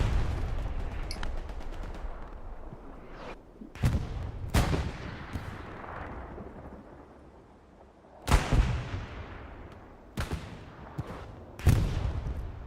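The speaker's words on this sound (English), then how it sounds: "626 artillery being called in here on this elbow." Artillery barrage in the Hell Let Loose war game: repeated heavy booming impacts land at irregular intervals over a constant low battlefield rumble, with several loud blasts close together near the end.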